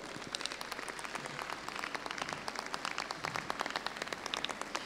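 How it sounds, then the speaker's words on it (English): Audience applause for junior alpaca handlers aged 5 to 10 at a national alpaca show, a steady patter of many hands clapping at moderate distance, with no voices over it. "Let's give all these kids a big round of applause."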